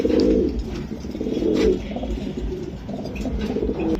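Racer pigeons of racing-club quality coo in a loft, with repeated soft, throaty coos rising in bursts at the start and near the middle over a steady low background rustle.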